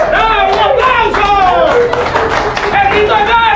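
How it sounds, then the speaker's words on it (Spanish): An audience claps loudly and steadily at a prize giveaway while voices shout and cheer over it. "¡Bravo! ¡Un aplauso!"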